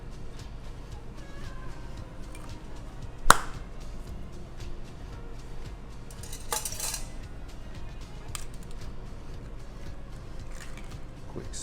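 A spoon stirs a strawberry mocktail topped with mint leaves, giving a few light clinks against the glass, with one sharper knock, over a quiet background.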